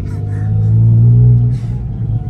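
A Porsche GT4 RS engine heard from inside the cabin, a deep steady rumble that swells and drones before easing off, with brief voices over it.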